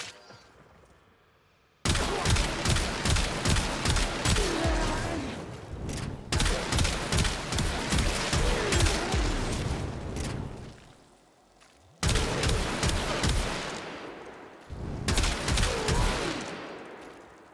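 Weapon gunfire in Warframe from an Excalibur build, with rapid sustained automatic bursts in three long volleys separated by brief pauses, loud and close.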